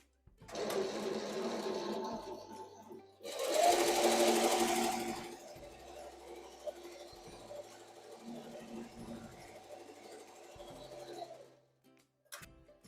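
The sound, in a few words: embroidery machine stitching a tack down on a Velcro patch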